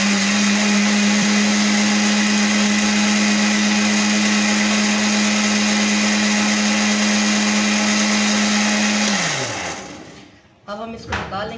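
A kitchen blender whirring steadily while blending a strawberry milkshake, a loud constant high hum for about nine seconds that winds down as the motor stops, followed by a few clunks and handling noises.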